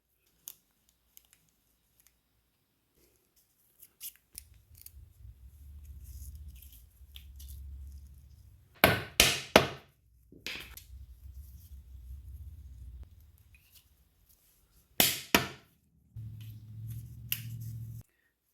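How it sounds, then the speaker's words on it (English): A tool taps a detent sleeve into a ZF 5-speed gearbox on a BMW E46, two short clusters of sharp, close metallic knocks separated by quiet stretches and a low background hum. "certain tool will tap in the sleeve first, just like that"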